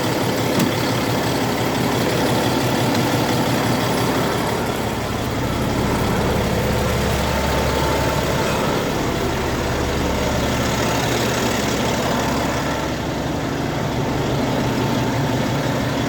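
A company semi truck's diesel engine idles close by, a steady low rumble that holds evenly for the whole stretch with no talking.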